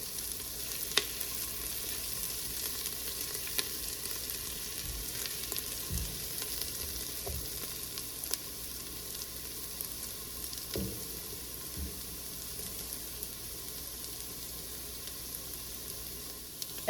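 Onions and garlic caramelizing in a pan, a soft continuous sizzle with occasional faint stirring knocks and clicks, fairly quiet and steady throughout, without talk.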